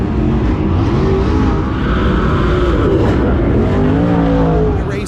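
Race cars lap All-Tech Raceway, their engines a loud, continuous roar that rises and falls in pitch as cars sweep past close by.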